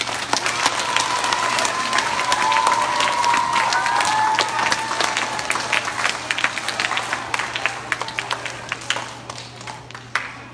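An elementary school audience gives a round of applause for the school administration, a dense crowd clapping with scattered cheers and shouts that gradually thins toward the end, with a low steady hum underneath.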